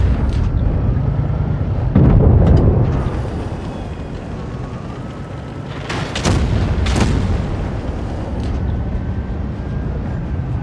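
Tank cannon shots ring out in a heavy-tank video game battle, with a loud boom near the two-second mark and sharp cracks around six and seven seconds over a steady rumbling engine bed.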